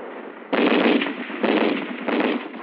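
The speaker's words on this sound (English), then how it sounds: "Our machine gun covers the advance." Machine gun fire in deep snow and extreme cold, heard as bursts of rapid rattling shots in three sustained waves over steady background noise, with the harsh, band-limited tone of old military film sound.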